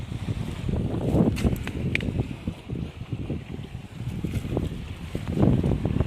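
Steady, rumbling wind buffets the microphone beside Lake Como on a Sunday morning, gusting louder and softer throughout with no talking.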